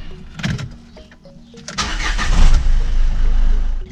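A car engine cranks and catches, then settles into a loud, steady run, with some clatter before the start; engine cleaner has been added ahead of an oil change.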